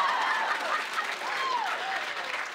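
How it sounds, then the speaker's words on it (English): Studio audience applause at a late-night talk show, a steady dense wash of clapping filling the whole moment, with a few whoops and cheers rising above it. "where's the applause on that one?"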